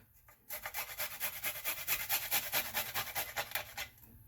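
Garlic rubbed over a grater in a quick, even run of rasping strokes, close and clear, about a dozen rhythmic scrapes with no talking.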